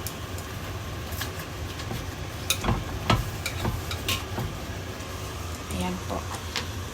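Pork slices fry in a pan with carrot and onion, giving a steady close sizzle broken by clattering stirs and utensil knocks, heard under a person talking.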